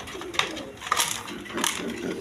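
Light-coloured racer pigeons at a pigeon farm make soft, low coos over a steady rustling background, with a few brighter scuffing bursts mixed in.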